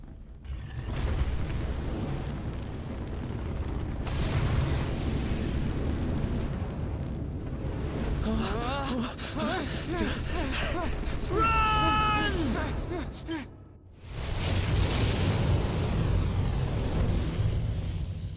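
A fire spell blasts during Dragon Quest 11 combat, with several long roaring bursts of flame, one near the start and another after a brief silence, and other game effects in between.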